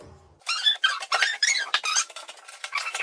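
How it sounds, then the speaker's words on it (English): Nails squeaking as they are pulled out of oak door stops on a pre-hung oak door, a series of sharp, close, high-pitched squeals and creaks in quick succession after a brief quiet start. "Always pull nails from the back."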